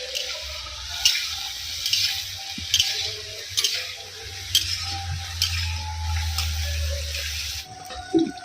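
Cauliflower pieces frying in hot oil make a continuous sizzle, with sharp, regular scraping knocks about once a second and a low rumble underneath.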